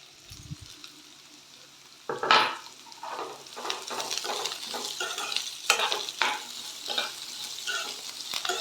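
Chopped beans and capsicum fry in a pan on high flame for vermicelli upma, a steady sizzle with scraping stirs that starts after a sharp clatter and continues alone, fairly close.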